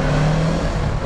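A 2022 Kawasaki Z650RS motorcycle engine held at a steady, loud, close rumble for about a second, no voices.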